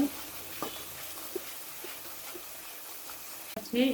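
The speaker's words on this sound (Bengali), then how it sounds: "আমি সুন্দর করে মশলাগুলো কষিয়ে নেব সেই এই পর্যায়ে আমি মরিচের গুঁড়া দিলাম পরিমাণ মতো" Spices with chili powder fry in a pan for a prawn curry, giving a low, steady sizzle with occasional soft stirring taps and scrapes, fairly quiet throughout.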